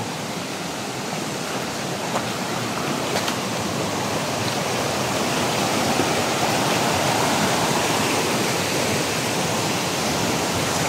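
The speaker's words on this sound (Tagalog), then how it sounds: "kung nakikita nyo yung rumaragasang tubig na yan na nanggagaling sa itaas ng bundok" Loud, constant rushing of water flowing down from a mountain in a forest, a dense roar like a torrent or waterfall close at hand, steady throughout with no voices.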